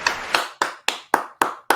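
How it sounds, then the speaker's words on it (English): Seven sharp separate claps at a podcast taping, evenly spaced and close, each ringing briefly in a reverberant room. "I want to give a round of applause for Jack"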